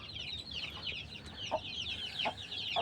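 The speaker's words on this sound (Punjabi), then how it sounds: "ਆ ਜੋੜੀ ਖੜੀ ਆ ਆਪਣਾ ਬਿੰਗਮ ਮੁਰਗਾ ਤੇ ਬਿੰਗਮ ਮੁਰਗੀ" A rooster and hen pair of a farm chicken breed cluck faintly and intermittently at a distance, with soft repeated calls over a quiet outdoor background.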